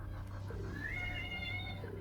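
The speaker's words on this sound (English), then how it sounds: "Can you hear my cat?" A pet cat gives a single drawn-out meow, rising and then falling, fairly faint over a steady low background hum.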